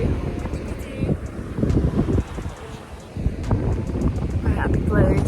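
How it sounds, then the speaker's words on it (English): Strong wind at a beach batters the microphone in loud, gusty rumbling bursts, with faint voices and the wash of surf mixed underneath. "It is windy. Very windy."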